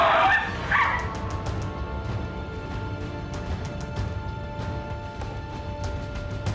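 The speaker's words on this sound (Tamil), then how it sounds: "வீடு புகுந்து வளர்ப்பு நாய்களை சிறுத்தை கவ்வி இழுத்துச் செல்லும் பதை வதைக்கும் காட்சிகள்தான் இவை." Pet dogs at a home bark and yelp during a leopard attack, with sharp close cries bunched in the first second before fading into a noisy, rumbling background.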